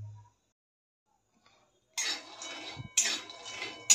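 Peanuts being stirred and dry-roasted in a pan over a low flame: silence, then two close bursts of rattling, scraping stirring with light clinks, each lasting about a second, no talk.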